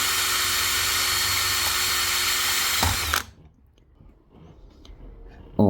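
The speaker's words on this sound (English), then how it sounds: "now we have to drill a hole in the front of the car" A power drill boring a 3 mm hole into the front of a 1/18 scale plastic model police car, a Greenlight Chevrolet Terminator; a steady close whine runs for about three seconds, then stops abruptly, leaving faint clicks and handling noise.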